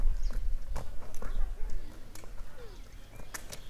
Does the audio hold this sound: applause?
no